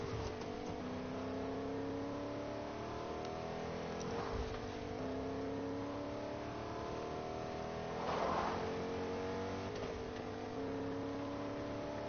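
A car engine in the Fortnite video game revs and drones steadily throughout, with harmonics rising and falling and a couple of brief louder surges, fairly quiet and with no talk over it.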